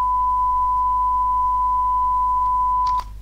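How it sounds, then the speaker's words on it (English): A 1000 Hz sine wave test tone generated in Blender holds as one steady, pure, unbroken pitch for about three seconds, then cuts off with a brief click. "you need a sound of exactly 1000 Hz"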